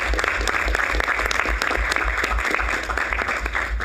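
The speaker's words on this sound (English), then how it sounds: "Please give them a round of applause" A university board of trustees audience claps for new campus presidents, including the interim president of CSU Dominguez Hills, in a sustained, even round of applause heard close for about four seconds.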